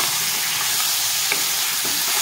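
Boiled cauliflower and potato frying lightly in a pan: a loud, dense, continuous sizzle with a couple of faint stirring scrapes, close up and without speech.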